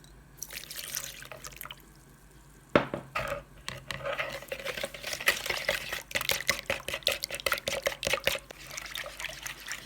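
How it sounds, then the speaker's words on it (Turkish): A whisk clicks and scrapes rapidly against a bowl while mixing room-temperature eggs and sugar for pancake batter, with wet sloshing and steady, busy tapping that grows denser after a short quieter start. "Oda sıcaklığındaki malzemelerimizi çırpalım."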